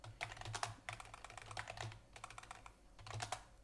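Steady typing on a computer keyboard while entering text for a Qt QML app, with rapid key clicks in bursts and brief pauses, close and clear, no talking.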